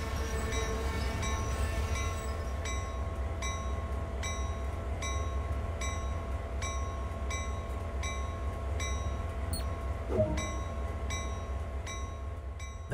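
A GP38-2 diesel locomotive in the Train Sim World 2 video game slows to a stop, its steady low engine rumble and rail noise continuous and close, with a brief brake hiss or squeal near the end.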